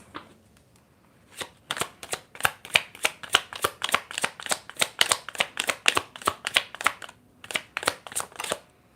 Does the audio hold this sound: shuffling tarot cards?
yes